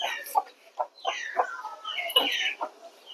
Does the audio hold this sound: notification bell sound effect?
no